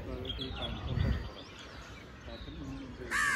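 Birds, including parrots, call in the early morning with faint chirps and whistles under a low background rumble and some nearby voices, ending in a short burst of sharper, noisier calling.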